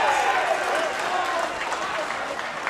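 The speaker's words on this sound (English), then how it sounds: "Crowd's going wild." A rodeo crowd at a stampede event cheers and applauds in a broad, continuous roar, while a voice talks over the noise.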